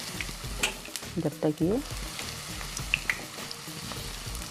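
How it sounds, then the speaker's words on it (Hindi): Maggi noodle manchurian balls frying in hot oil, with a continuous crackling sizzle close by and a brief stretch of talking partway through. "अच्छी तरह से फ्राई करेंगे"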